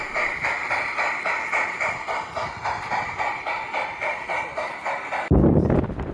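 A train rolls past with a steady, rhythmic clickety-clack of wheels over rail joints and a bright metallic ring, fairly close and continuous, ending in a sudden loud rumble burst near the end; no talking.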